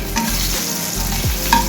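Spices, including Kashmiri chilli powder, turmeric and cumin, fry in oil with a loud, close sizzle and brief stirring scrapes.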